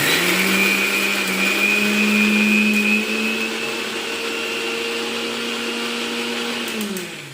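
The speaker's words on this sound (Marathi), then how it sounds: "आता आपण लसूण अद्रक खोबरं मिक्सरला काढून घेऊ" A mixer grinder grinding garlic, ginger and coconut whirs loudly and steadily for several seconds, its motor pitch dipping slightly midway as it grinds, then winding down.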